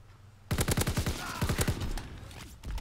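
Call of Duty: WW2 gunfire in a team deathmatch on London Docks, two rapid automatic bursts of about six shots each with a short gap between them, loud and close.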